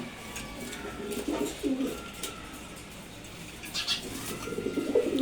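Pigeons in a loft give soft, throaty coos in short bursts, several birds calling close by with a faint rustle of wings between calls.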